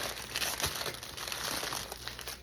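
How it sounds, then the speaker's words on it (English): Aluminum foil being wrapped tightly around a loaf of French bread, a steady close crinkling and crumpling that continues throughout without pause. "you're going to make sure it's all the way covered in aluminum foil, just like so"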